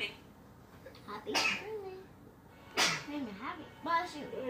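A single sharp sneeze bursts out about a second and a half in, close and fairly loud, with people talking before and after it.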